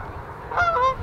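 Canada geese close by give a short burst of nasal honks, two or three calls in quick succession over faint outdoor background noise.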